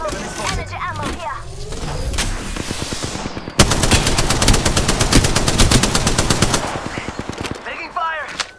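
Gunfire in the video game Apex Legends: a long, loud stream of rapid automatic shots, with a burst near the start, a steady rattle through the middle, and game voice lines around it.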